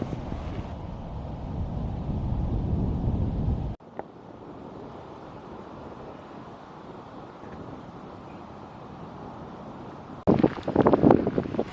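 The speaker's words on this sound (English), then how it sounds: "I couldn't say any of this while it was filming because it was so bloody windy." Strong wind buffets the camera microphone on the Faroe Islands coast, a loud steady roar that drops abruptly partway through, then returns in gusty bursts, with no voices.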